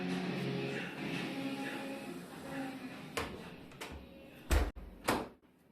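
A door fitted with a bottom seal and soundproofing tape is shut, giving two dull thuds near the end after a few seconds of quiet room hush.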